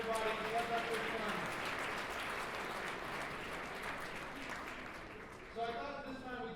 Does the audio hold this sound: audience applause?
yes